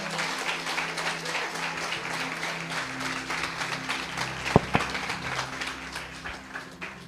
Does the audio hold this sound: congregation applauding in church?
yes